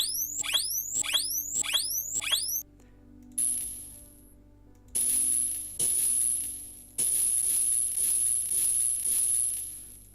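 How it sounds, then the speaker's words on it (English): Electric shock sound effect: a series of rapid descending chirping zaps in a quick rhythm, then a gap and several harsh buzzing, crackling bursts with a high whine, close and fairly quiet, no voices. "Electric shock. Let's try that."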